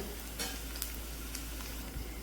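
Mustard seeds sizzling in hot oil for a tempering, a steady soft crackle with a few sharper pops, faint and close, with no talking.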